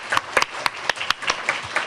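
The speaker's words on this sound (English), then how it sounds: "if we could give a round of applause for Mr. Hess specifically" A small group at a school board meeting gives a round of applause, sparse, distinct claps in an uneven rhythm, fairly close and clear.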